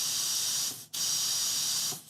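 Compressed air hisses steadily into a Honda Valkyrie carburetor with a broken pilot jet tip, a loud, close, airy rush that cuts out briefly near the middle and then resumes.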